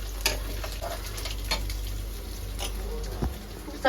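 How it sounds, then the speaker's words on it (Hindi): Food fries in butter and oil with a steady low crackle and scattered sharp ticks and pops, heard close under a constant background hum. "ये मक्खन में फ्राई हो रहे हैं, ये अलग से ऑयल में फ्राई हो रहे हैं।"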